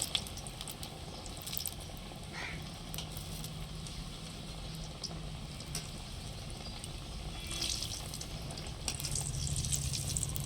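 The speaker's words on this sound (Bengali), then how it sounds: "কিন্তু খুব গরম হয়ে গেছে দেখুন, দেওয়ার সাথে সাথেই আমার ভাজা হয়ে যাচ্ছে।" Potato chops deep fry in very hot oil, a quiet continuous bubbling sizzle with occasional soft crackles that swells a little toward the end, heard alone without talk.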